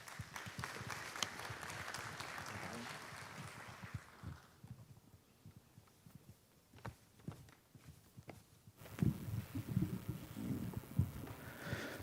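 Audience applause welcoming engineer Maurício da Rocha at a municipal transport-project presentation in the mayor's office. It is dense and steady for about four seconds, then thins to scattered claps and fades under low room noise.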